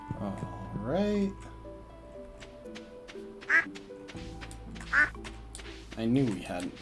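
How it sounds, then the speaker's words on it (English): Ducks in the farming game Stardew Valley quack when petted, a few short nasal calls spaced apart over background game music, with one near the start and others at the end. "I knew we hadn't pet one of the ducks."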